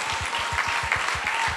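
Audience at a Polish cabaret awards ceremony clapping, a steady rhythmic applause with some claps landing in unison, heard alone at moderate loudness.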